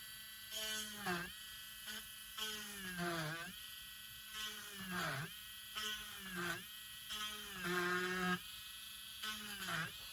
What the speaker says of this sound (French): Heureusement qu'avec la mini perceuse, ça va super vite.